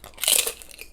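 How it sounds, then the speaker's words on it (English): Salmon skin chips give a single sharp, close crunch as they are bitten, lasting under a second. "It's a salmon skin. Again, right here, that's it. And the crunch is amazing."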